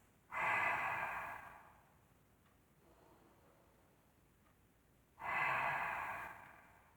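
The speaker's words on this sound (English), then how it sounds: "Taking deep breaths." Deep breaths during a seated forward fold in an easy chair yoga session: two slow, close, airy exhales about five seconds apart, with faint quiet breathing between them.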